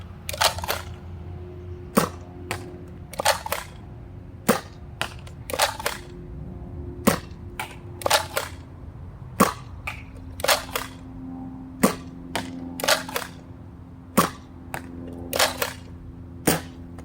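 Nerf N-Series blaster firing darts at a target from about 30 feet, a long run of sharp snapping shots, some single and some in quick pairs, repeating at uneven intervals over a low background hum with no talk.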